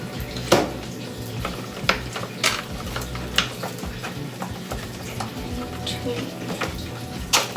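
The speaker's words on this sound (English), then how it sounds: "I have a spoon here. I'm gonna spread our ricotta." A spoon spreads ricotta across a lasagna, giving soft scraping and several light clinks against the dish, close and fairly quiet, with no voices.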